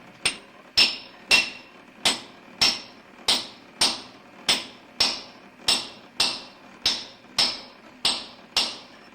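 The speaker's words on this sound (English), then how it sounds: "plant my drill bit into the rock, and then start smacking away" A hammer strikes a steel drill bit into rock in an even rhythm, about fourteen sharp metallic blows, each ringing briefly before the next.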